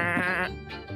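A sheep bleats once, close and loud, a quavering harmonic cry that wavers and fades within a second.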